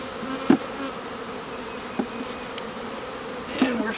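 Honeybees from a rescued swarm buzz in a dense, steady hum close by at the hive, with a few soft knocks and clicks of handling scattered through it.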